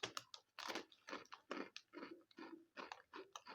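Crunchy Max snacks crunch loudly between the teeth in quick, uneven bites, a run of close, sharp crackling chews with short pauses between them and no talking.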